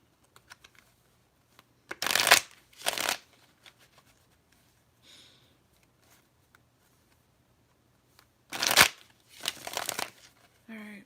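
A card deck for a pick-a-card ancestor reading is shuffled in two separate brisk, crisp bursts, close and fairly loud, with near silence between them.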